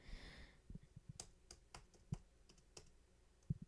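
Someone types quietly on a computer keyboard, pressing backspace, with a short burst of irregular, close, soft key clicks and taps.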